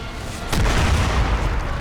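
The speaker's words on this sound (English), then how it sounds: "Whoa, I shot myself with the rocket." A rocket blast in the video game Crysis hits the player, landing as a sudden heavy boom that rolls into a deep rumbling tail, loud and close, with no talk over it.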